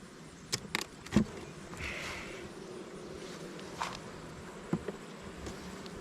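Honey bees humming steadily inside an opened hive, a soft continuous drone broken by a few sharp clicks and knocks from handling the frames.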